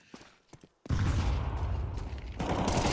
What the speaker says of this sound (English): And just some shots from Shane to put him on his toes